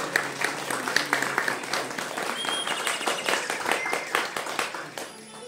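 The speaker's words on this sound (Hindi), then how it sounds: "सभी ने जोरदार तालियों के साथ भगवान का स्वागत किया है।" Audience at a Hindu Bhagwat Katha religious discourse clapping loudly, dense rhythmic applause that swells and then tapers off toward the end.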